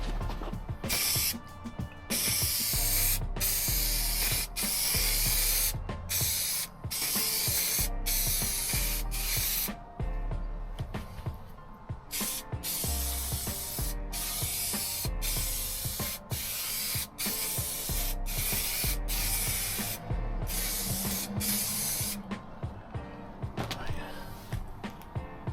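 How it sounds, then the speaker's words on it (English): Spray glue hisses from a can onto a Ford Transit camper van's panels ahead of Dodo Dead Ezy insulation, in loud, steady bursts broken by short pauses, with clicks and clatter of handling in between. "With this spray glue."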